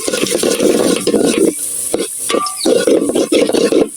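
Bay leaves sizzling in hot oil in a pot while beef with raw green papaya cooks, giving a loud continuous frying hiss with stirring scrapes and a brief lull midway.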